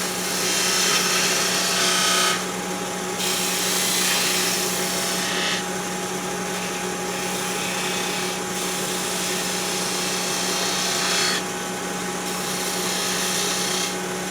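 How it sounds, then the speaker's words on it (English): A wood lathe spins a peppermill blank while a spindle gouge cuts it down, giving a steady loud whirring hum with hissy scraping bursts as the tool engages and lifts off the wood. "Just take it down, back to the spindle gouge."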